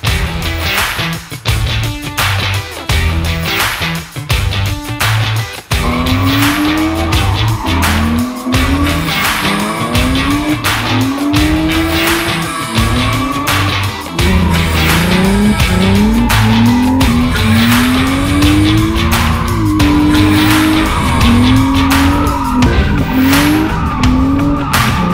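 A drift car spins donuts at a women's drift practice, its engine roaring steadily while the tires squeal and skid in long, rising and falling wails, loud and close with no talk.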